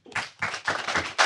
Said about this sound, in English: Please, again, give a big round of applause to our speakers